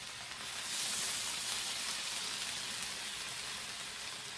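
Bacon and egg frying together on a retro breakfast station griddle give a steady, close hissing sizzle throughout, with no talking.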